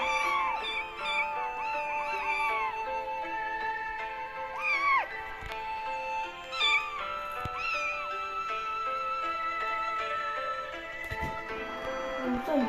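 Several cats meow and yowl repeatedly with rising and falling cries, some close and loud, others overlapping through the whole stretch.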